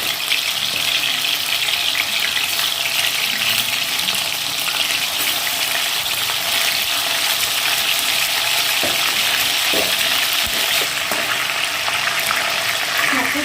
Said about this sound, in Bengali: কড়াইয়ে আমি তেল গরম করতে বসিয়ে দিয়েছি, গরম হয়ে গেছে। এবার এর মধ্যে আমি চিকেনের পিসগুলো দিয়ে দেবো।